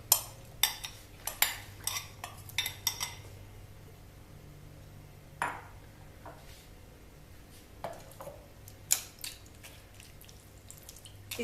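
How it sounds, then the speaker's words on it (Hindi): Soaked tamarind is pressed and strained through a sieve into a vessel, giving a series of sharp clinks, taps and wet drips, dense at first and then sparser, close by with no talk. "भीगी हुई इमली को किसी बर्तन में छलनी से छान लेंगे।"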